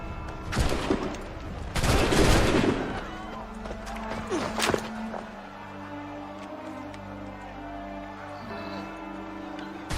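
Musket volley in Assassin's Creed 3, with a loud ragged crackle of many shots in the first seconds, then a fading rumble and low game ambience, with some voices mixed in.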